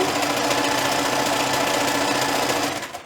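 A sewing machine top-stitching fabric runs continuously at speed, a rapid mechanical clatter close up that slows and fades in the final moments.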